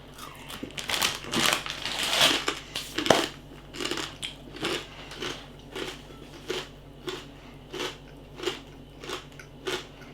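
Salted old-style Danish fried pork scratchings being chewed up close, a string of sharp dry crunches and crackles in an uneven biting rhythm, loud bites early then steadier softer chews, with no talking.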